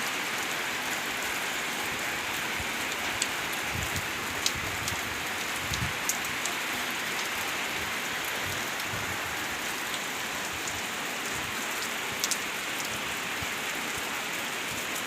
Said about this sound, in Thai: ฝนตกเล่นลงเรื่อยนี่แหละเขาฝนหาก็มาตกพี่น้องเอ้ย